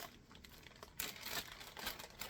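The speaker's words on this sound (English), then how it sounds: "There will be some crinkling because in order to not get things confused, mixed up, or lost, I do have to keep things in their bags." Plastic bags crinkle and rustle up close during the unboxing of a yarn subscription box. The sound is quiet, irregular handling noise that grows busier after a sharp crackle about a second in, and no one talks.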